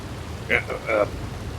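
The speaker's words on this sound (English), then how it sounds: "it's raining, and if it rains too much, well, that ain't good" Steady rain hisses throughout a Red Dead roleplay game scene, a continuous wash of noise with a couple of brief muffled voice-like sounds on top.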